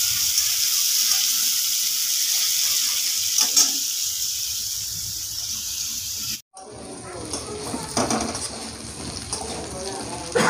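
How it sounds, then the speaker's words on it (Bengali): Ridge gourd pieces fry in oil in a home kitchen for aloo posto, sizzling steadily with a water-like hiss, broken by a sharp cut midway and then resuming with clattering. "ঝিঙেগুলো আগে তেলে কষে নিচ্ছি"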